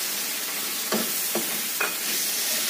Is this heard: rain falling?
no